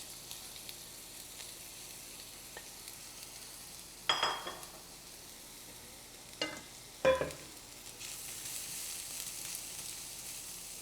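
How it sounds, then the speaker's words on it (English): Onion frying in a hot pan for a spinach omelet with home fries, a quiet steady sizzle with a few sharper bursts of crackle and stirring scrapes, no talking. "Let's cook the onion here."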